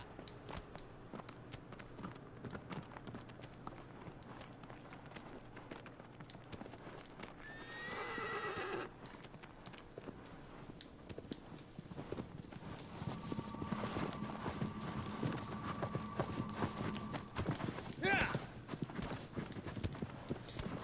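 A horse in the game Shadow of the Colossus gives a sharp whinny, then its hooves clop in a steady walking rhythm, with a second neigh near the end over a quiet outdoor ambience.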